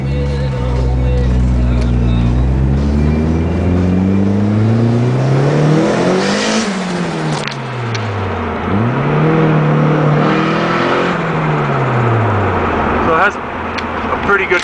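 Turbocharged Project 420A GS Turbo car engine revving hard under acceleration, rising and falling through several gear pulls with loud, close engine drone and spooling whine, a voice briefly speaking over it.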